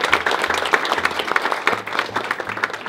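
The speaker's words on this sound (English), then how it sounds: "So please give them a big round of applause" A room at a games class showcase applauds its mentors, a steady wash of many hands clapping at close range, loud and continuous for a few seconds.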